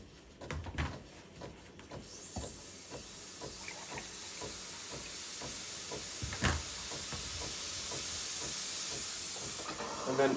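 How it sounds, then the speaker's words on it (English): Steam wand of a Breville Barista Pro BES878BTR espresso machine hissing steadily and loudly for several seconds, a broad continuous rush that builds after a few faint knocks and clatters at the start. "Steaming milk. Turn on the wand,"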